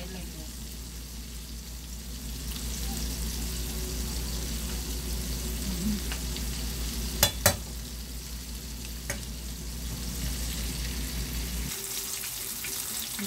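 Chicken wings frying in a wok Guyanese style with garlic and butter, a steady loud sizzle running throughout, broken by a few sharp clanks of a utensil and a brief pause in the hiss near the end.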